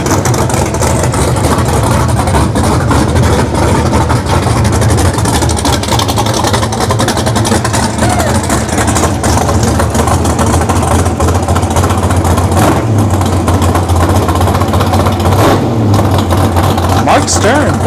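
A loud, continuous drag racing car engine rumbles and revs close by at a test-and-tune session at a dragstrip, with a deep roar throughout and voices faintly mixed in.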